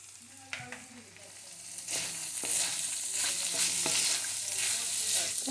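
Spiny gourd curry with chili powder is stirred in a hot pan, giving a steady sizzle and frying hiss with scraping spoon strokes throughout, louder after the first couple of seconds.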